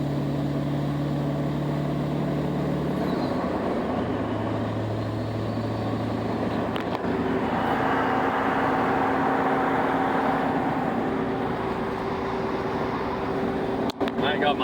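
A large diesel tractor engine rumbles steadily at idle with a droning hum and shifting tones, continuous and close throughout.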